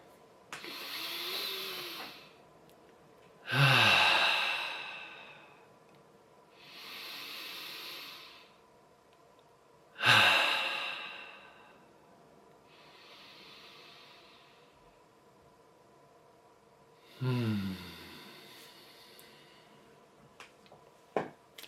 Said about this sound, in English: Let's take another 3 deep breaths together